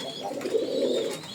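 A pigeon coos close by in a single soft, low, rolling call that swells and fades over about a second, with no talking.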